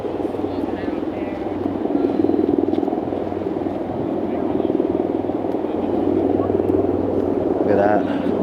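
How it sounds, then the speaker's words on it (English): A helicopter circles above a wildfire in Los Angeles, one of several in the sky, its steady low rotor thrum continuous and fairly loud throughout, with people talking nearby over it. "Helicopter up there."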